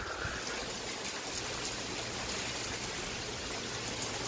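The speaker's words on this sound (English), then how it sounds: "It is literally a downpour." Heavy rain pouring down during a thunderstorm in Rotterdam, New York, a dense, steady roar of falling water that stays even and unbroken throughout, with no voices.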